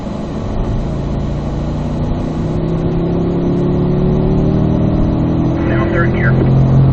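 A Corvette on a racetrack accelerates hard in fourth gear, its engine note climbing steadily in pitch and loudness with a throaty roar heard from inside the car. Faint talk sits beneath it.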